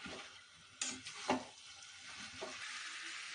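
Soaked masoor lentils stirred in a pan, a faint sizzle with a few soft scrapes and taps from the spoon, close but quiet.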